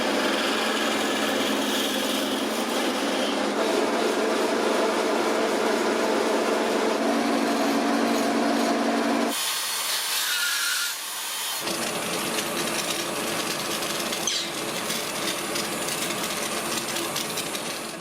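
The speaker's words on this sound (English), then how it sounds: "Now I'm back from the lathe again" Boxwood dagger handle spinning on a wood lathe as a tool cuts it, a steady close scraping and shaving rasp with a brief change in tone partway through and no talking.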